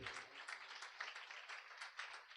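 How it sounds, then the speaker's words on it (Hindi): A church congregation claps in applause during a Hindi-language Christian sermon, a steady dense patter of many hands at moderate distance, with no voice over it. "जोरदार प्रभु की महिमा करें ताली बजा करके"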